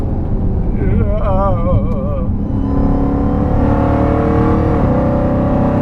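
A 1,000 hp Jeep Grand Cherokee sleeper engine roars loudly and steadily close by, its pitch climbing as it revs under load, with a voice briefly heard at the start.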